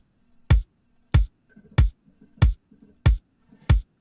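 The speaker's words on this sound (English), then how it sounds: "So this kick drum here, what it is actually just a kick sample." A Splice kick drum sample struck six times at a steady, evenly spaced pulse, each hit a punchy, deep, booming thump with a sharp attack, loud and alone with faint low hum between.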